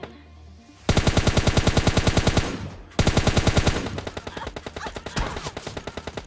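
Rapid automatic gunfire in PUBG Mobile Lite, close bursts of rhythmic shots separated by brief pauses, followed by a quieter exchange of fire.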